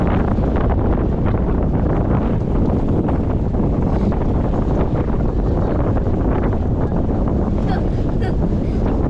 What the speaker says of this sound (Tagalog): Hangin ay, lakas.